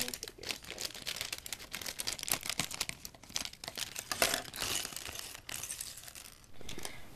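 Plastic Lego Chima polybag for Gorzan's Walker being cut open, a steady run of close crinkling and tearing of thin plastic with bright rustling bursts, no talking.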